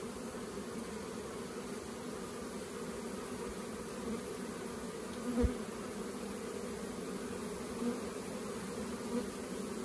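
A dense, steady hum of a summer swarm of honey bees buzzing together fills the air, continuous and moderately faint, with a soft thump partway through.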